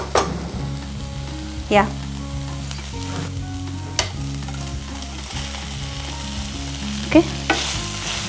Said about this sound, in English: Just mix everything together for that to coat on top